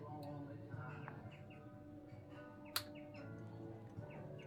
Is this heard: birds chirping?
yes